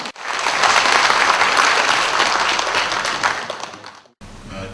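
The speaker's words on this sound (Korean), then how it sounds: "박수 한번 치세요." Audience applause at a tea day commemoration, a loud dense burst of many hands clapping that holds steady for about four seconds, then cuts off abruptly with a faint room tone left behind.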